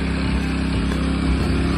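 A small tractor driven by a young boy runs steadily with a low, even engine drone that stays constant throughout, close to the listener and free of speech.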